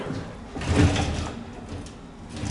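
A cabinet drawer slides open or shut with a short rumbling scrape that peaks briefly and fades, close by in a quiet room.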